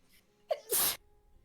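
One person gives a single sharp sneeze: a short intake of breath, then a burst of noise lasting about a quarter second, in an otherwise quiet room.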